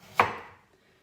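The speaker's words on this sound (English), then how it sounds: "I like to cut the blossom end and the stem end off of my cucumber." A single knife cut through a cucumber for fermenting lands as one crisp, close chop on a cutting board, fading quickly, with no talk.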